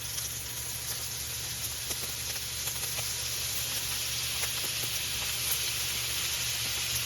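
Butter sizzling hard in a hot pan alongside seared filet mignon, a steady dense crackling hiss with a low hum underneath, continuous and close for the whole stretch.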